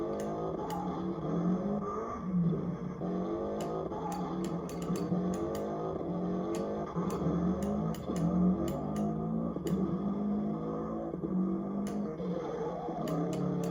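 Car engine in a rally racing arcade game revving continuously, its pitch climbing and dropping with gear shifts, close and loud, with sharp clicks scattered over it.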